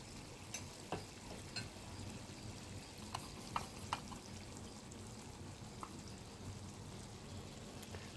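Chicken frying with masala powder in a pan for an Andhra-style chicken fry, a quiet continuous sizzle broken by occasional scraping and stirring clicks, close and faint.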